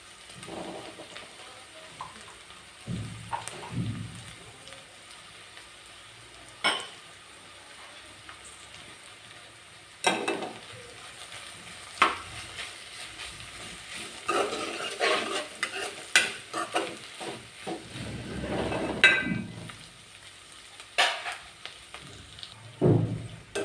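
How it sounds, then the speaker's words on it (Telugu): Ginger garlic paste frying in a pan while a curry is cooked, with irregular bursts of spatula scraping and stirring over a low, steady sizzle. No one speaks. "కొంచెం అల్లం వెల్లుల్లి పేస్ట్ వేసుకుందామండి"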